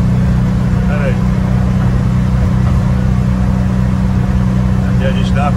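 A Volkswagen Kombi van's engine drones loudly and steadily as it accelerates on the road, heard from inside with constant road rumble and a brief voice or two underneath.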